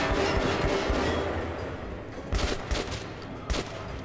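Gunfire from Metro Last Light Redux crackles in rapid bursts, several close shots punching out over a dull ambient rumble, with a couple of distinct louder reports near the end and no talk.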